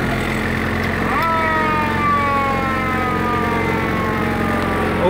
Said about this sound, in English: Little siren on the front right fender there does work.